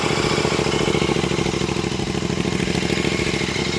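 Royal Enfield Continental GT 650 idling with an AEW aftermarket exhaust fitted with its baffle, giving a loud, steady, close-up throb with a rapid even pulse and a metallic clatter, with no voices.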